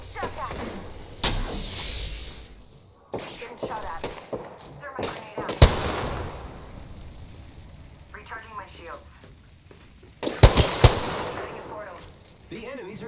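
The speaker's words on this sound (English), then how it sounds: "The enemies are shooting at me." Enemy gunfire in the video game Apex Legends, scattered shots and sharp bursts around a player amid game effects, with a voice speaking over parts of it.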